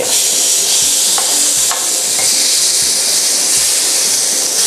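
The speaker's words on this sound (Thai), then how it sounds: "ตอนนี้ผมกลับเนื้อได้ละ" Beef steak sizzling and frying steadily in a hot pan as it is turned over, a constant close hiss with faint scraping, no talking.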